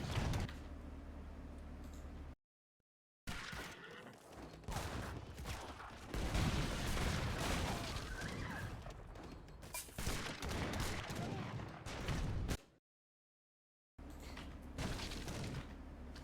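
Heavy cannons fire in an Age of Empires style strategy game battle, a dense run of loud blasts and booms with brief silent gaps between bursts.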